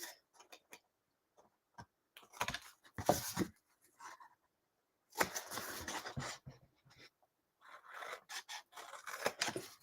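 Scissors snip through card for a double gatefold craft card, in short close clicks and longer cutting scrapes separated by quiet pauses.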